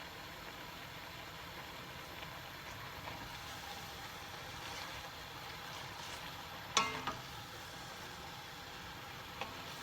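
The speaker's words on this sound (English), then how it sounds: "You can already hear all the water from the spinach at the bottom." Water from spinach in a spinach and golden plum stew simmers and sizzles at the bottom of a pot, a soft, steady hiss with a few faint clinks of utensils.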